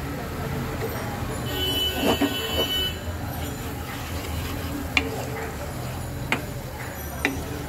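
Spices being fried and stirred in a pan for katla fish curry with yogurt, a steady sizzle with scraping stirs and a few sharp clinks of the spoon against the pan.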